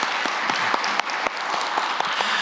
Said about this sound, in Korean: 감사의 박수 올려드리도록 하겠습니다